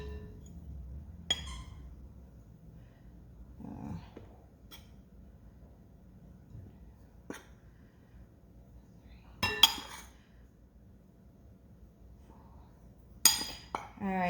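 Scattered clinks and light knocks of a quarter-cup measure against a small bowl while all-purpose flour is scooped for pizza dough, sparse and fairly quiet, with long gaps between taps.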